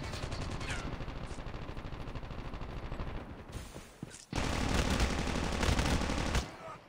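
Sustained automatic gunfire from the Call of Duty Mobile video game rattles continuously, pausing briefly midway before resuming in an even louder, denser burst that cuts off near the end.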